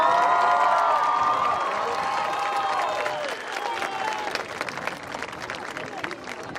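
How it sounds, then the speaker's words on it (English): At an outdoor graduation ceremony, an audience applauds the graduating students with some cheering and whoops; a tonal sound rings out early, then the clapping thins into scattered claps and background voices. "Let's give our students a round of applause one more time."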